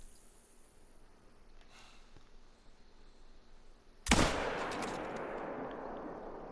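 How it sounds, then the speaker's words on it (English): In a mule deer hunting video game, a single sharp rifle shot cracks loudly after a few seconds of quiet ambience, its echo rolling away and fading slowly. "I should be far enough that the mule deer at this zone should not hear my gunshot."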